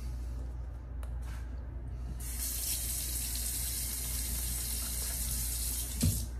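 Tap water runs steadily into a sink while shaving soap lather is prepared, a continuous close hiss that grows louder and brighter partway through, with a brief knock near the end.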